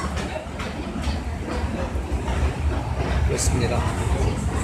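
Steady rumble and faint rattling inside a moving train travelling from Salzburg to Munich, a quiet continuous interior hum with a person speaking briefly over it.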